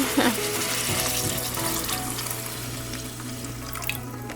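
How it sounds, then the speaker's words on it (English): Water poured into a hot frying pan in a home kitchen, with a steady close sizzle and hiss of running water that keeps going the whole time, opening with a brief louder burst. "I'm gonna add the water"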